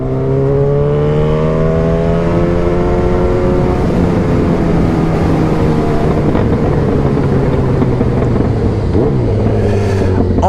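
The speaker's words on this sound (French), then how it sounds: "je sais pas du tout ce que ça va rendre l'échappement" A Yamaha FZ8 motorcycle's exhaust drones loudly and close, holding a steady engine note that swells and shifts in pitch as the revs change. Wind buffets the microphone, and no one speaks.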